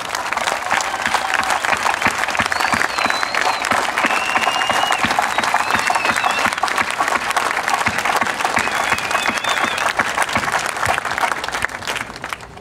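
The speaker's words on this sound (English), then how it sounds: "give a warm round of applause for the families and friends and racers" An audience at a racing memorial applauds warmly for families, friends and racers, dense sustained clapping from a large crowd holding steady before tapering off at the end.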